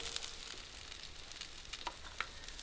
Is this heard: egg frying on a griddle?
yes